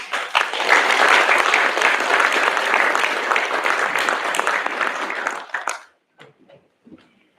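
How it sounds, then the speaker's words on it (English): Audience applause for the New Mornings community group at an Australia Day 2022 awards event: dense, steady clapping for about six seconds, then tapering off into a few scattered claps. "Please give a big round of applause to New Mornings."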